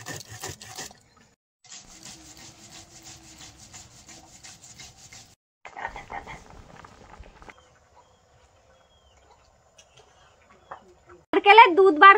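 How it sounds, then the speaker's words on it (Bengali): Mustard seeds and poppy seeds are ground together into a paste for a prawn malai curry. Close, gritty rubbing strokes come in short bursts separated by pauses, and a voice is heard at times. "মালাইকারির জন্য সর্ষে আর পোস্ত একসাথে বেটে নেব"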